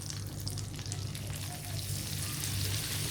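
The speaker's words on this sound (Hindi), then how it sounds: "फ्लेम को लो रखना है हमें और अच्छी तरह से मैदे को भून लेना है 1 से 2 मिनट तक चलाते हुए।" Flour frying in melted butter in a kadhai over a low flame, a soft, even sizzle and hiss with faint stirring scrapes, close by and alone without speech.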